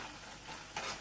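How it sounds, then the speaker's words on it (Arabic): Faint, steady crackling and sizzling of food frying in hot oil, with a slightly louder pop of bubbling near the end. "صوت القرمشه والخشوله دي"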